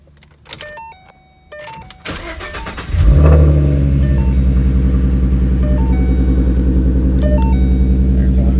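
A few soft chimes and clicks, then a Ford Mustang V8 engine with a newly fitted 73mm throttle body cranks and roars to life at about three seconds, settling into a loud, lumpy, rumbling idle.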